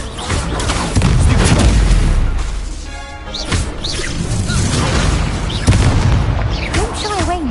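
Spell-casting effects from the Hogwarts Legacy video game, including an Incendio fire spell, sound as booming magical bursts and crackles amid continuous game noise, with a voice chanting spell names over the mix.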